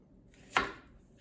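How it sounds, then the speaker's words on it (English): A single knife chop through an onion into big chunks on a cutting board, one sharp close thud against a quiet kitchen background. "So let's just big chunks,"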